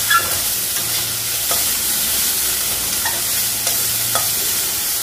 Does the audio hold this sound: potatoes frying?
yes